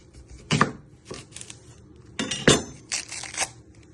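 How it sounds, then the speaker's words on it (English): A knife cuts the ends off an onion on a board, with two or three firm close chops and some lighter knocks and clinks between them, and no talking. "Next step, we're going to prep our onion. You're first going to chop your ends off."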